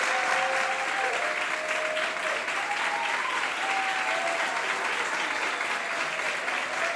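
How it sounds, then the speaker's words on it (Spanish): An audience applauds steadily at a book launch as the author is welcomed, with even, sustained clapping throughout and faint tones running underneath. "Vamos a recibir con un aplauso a Matías Rapizarda,"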